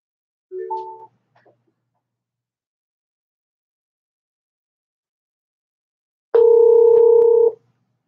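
Telephone line opened, with a short two-tone beep and a faint click, then silence before a steady, loud dial-style tone lasting about a second.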